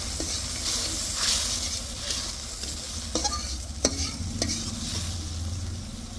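Potatoes fry with spice paste in a pan for a winter curry of cauliflower, beans and rohu fish, giving a steady sizzle with a few sharp scrapes of stirring against the metal.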